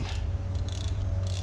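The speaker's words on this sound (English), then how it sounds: "And then you get the noise the drag makes." Close drag of a D.A.M. Quick 330 spinning fishing reel buzzing in short bursts of fast clicking over a steady mechanical rumble, no voices.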